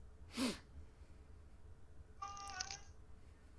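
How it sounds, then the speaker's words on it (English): A cat howls with two faint, drawn-out meows, the second longer and more tonal, against quiet background hiss. "Do you hear the cat howling?"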